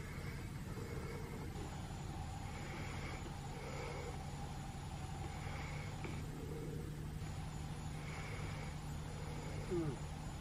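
A car drives along with a steady low engine rumble and road noise from inside the cabin, faint and continuous, with a few soft knocks.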